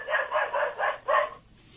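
A dog barks five times in a steady rhythm, then falls quiet, fairly close and clear against a quiet background with no talk.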